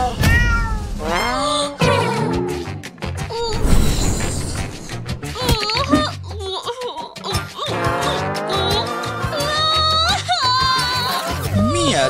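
A cat meows over and over, loud and close, with drawn-out, rising and falling cries that follow one another almost without pause for about twelve seconds.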